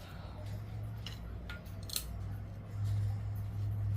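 A few sharp snips of scissors cutting, close by, over a steady low hum, with a brief louder click near the middle.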